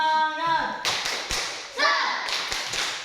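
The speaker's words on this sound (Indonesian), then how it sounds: "kita tepuk tangan dulu ya, tepuk semangat" A classroom of children claps out a rhythmic 'tepuk semangat' cheer during a science lesson, bursts of sharp claps in a set pattern alternating with chanted voices, close and lively.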